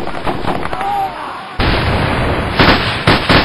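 Explosions and bursts in a military infantry patrol video game: a muffled blast, then a sudden loud, close boom with sharp follow-up cracks and a rumbling tail.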